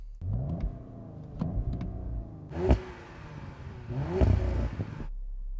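A stationary Audi RS4 is revved against its soft limiter. A few faint clicks lead into two short, sharp engine blips that rise and cut off quickly, close and loud, with no talking.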